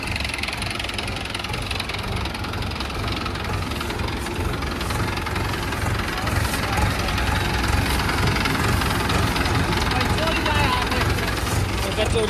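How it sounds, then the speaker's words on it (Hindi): A Sonalika 750 DI tractor engine runs continuously with a rough, knocking rumble and vibration, loud and close. Someone talks over it. "सोनाली का 750 DI पावरफुल ट्रैक्टर।"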